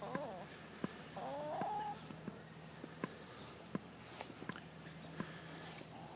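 Backyard homestead chickens with young chicks about three and a half weeks old, soft peeping chirps and occasional clucks coming and going over a steady insect drone, with faint sharp ticks scattered throughout.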